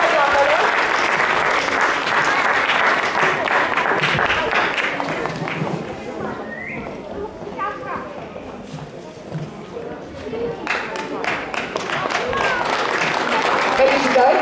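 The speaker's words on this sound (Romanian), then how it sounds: "Să-i mai aplaudăm, felicitări copii." An audience at a children's theatre and mask festival awards ceremony in Vălenii de Munte applauds the children on stage, with dense sustained clapping that eases in the middle and swells again while a voice speaks over it.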